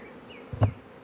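Honeybees at a hive during pollen-patty feeding give one brief, close buzzing burst that swells and fades within a fraction of a second over a quiet background.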